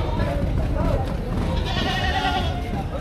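Goats bleat at a Philippine livestock market, their nasal cries rising over a busy low rumble of crowd noise and nearby talk that runs through the whole stretch.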